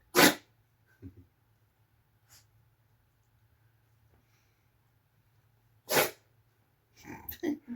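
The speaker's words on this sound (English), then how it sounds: "Someone's making you sneeze" Two sharp, explosive sneezes several seconds apart, from someone near a dusty bed in a historic suite on a quiet night, with voices starting up just after the second one.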